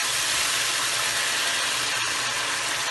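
Meat and yogurt frying together in a pan, giving a steady, dense broadband sizzle that holds at an even level throughout with no speech.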